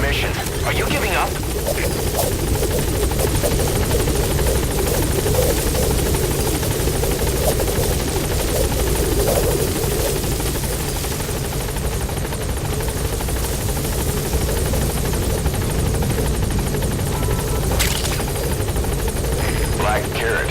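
A Metal Gear Solid 5 helicopter hovering at the landing zone keeps up a loud, unbroken rotor thrum and engine rumble from start to finish, with in-game voices talking over the steady noise.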